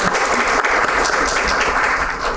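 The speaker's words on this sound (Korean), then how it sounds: "큰 박수 부탁드리겠습니다." Steady applause from a seated audience fills a hall at a social economy policy forum, dense and even throughout.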